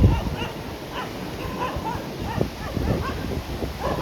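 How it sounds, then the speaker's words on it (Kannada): A dog near a roadside by Om Beach whimpers and yips in short bursts, moderately close, over outdoor ambience with wind and faint movement. "ಗೈಸ್ ನಾಯಿ ಬಂತು, ಗೈಸ್ ನಾಯಿ ಬಂತು"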